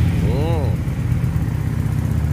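A Benda Napoleon Bob 250 motorcycle with its stock exhaust runs with a steady, low, throbbing engine note close by, and a brief vocal sound rises over it early on.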